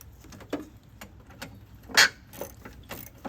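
A 10 mm socket ratchet loosening the battery terminal bolts on a 2016 Nissan Maxima, giving scattered close clicks and ratcheting ticks with one sharper metallic clack partway through, heard alone without talk.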